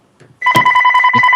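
A landline telephone rings loudly in a grandmother's house, a steady electronic warble with sustained tones that starts abruptly and continues without pause.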